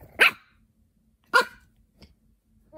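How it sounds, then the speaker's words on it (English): A dog barking at a chew toy indoors: two sharp, loud single barks about a second apart, followed by a softer short yip. "Why are you barking at it?"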